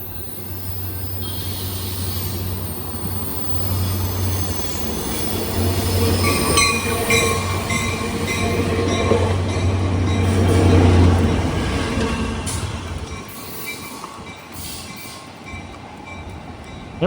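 A Sounder commuter passenger train rolls past nearby for a long stretch in the Seattle area, with rumbling wheels, rhythmic rail clatter and a low horn-like drone, fading toward the end.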